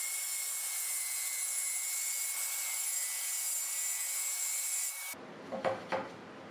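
A sheet of half-inch plywood being cut, a steady broadband rasp of sawing that runs without a break, then stops and gives way to a few scattered knocks and handling sounds near the end.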